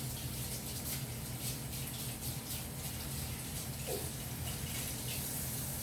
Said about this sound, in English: And now I'm gonna wash my hand because I got all this grease on me.